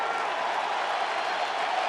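Crowd at Dodger Stadium during Game 3 of the 2018 World Series between the Red Sox and Dodgers, a steady roar of cheering fans as a sustained, even wash with no distinct peaks.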